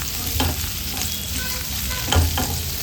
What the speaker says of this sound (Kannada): ಒಂದು ಕ್ಯಾಪ್ಸಿಕಮನ್ನು ಈ ಥರ ಸ್ಕ್ವೇರ್ ಶೇಪಲ್ಲಿ ಕಟ್ ಮಾಡಿ ಹಾಕೊಳ್ತಾ ಇದ್ದೀನಿ. ಒಂದು 2 ನಿಮಿಷ ಎಣ್ಣೆಯಲ್ಲಿ ಫ್ರೈ ಮಾಡ್ಕೊಳ್ಳೋಣ.